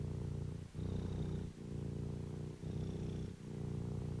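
A cat purrs close up in a slow, steady rhythm, each long rumbling breath separated by a brief pause, soft and continuous with no voices.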